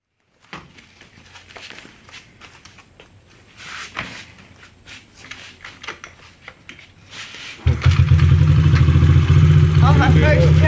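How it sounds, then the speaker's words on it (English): A Honda XR50 motorcycle engine catches at about 7.5 seconds and settles into a loud, steady idle. Before that come clattering handling noises, and a faint voice is heard. "That's how a Honda's supposed to crank"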